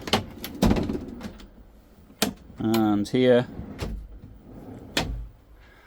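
Kitchen drawers in a Knaus Sun i900 motorhome slide open and shut with several sharp knocks and rolling runner sounds, close by, mixed with a person talking.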